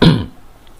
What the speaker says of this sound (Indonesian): Agak batuk nih.